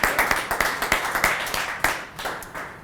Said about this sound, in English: That's worth a round of applause, right?